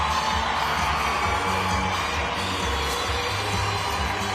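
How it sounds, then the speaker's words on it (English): A boxing arena crowd cheers after a women's fight between Natasha Jonas and Mikaela Mayer, a constant loud roar of voices and whoops that fills the hall without pause. "The crowd are giving a phenomenal reception"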